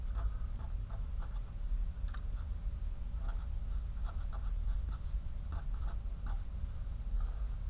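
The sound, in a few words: writing down notes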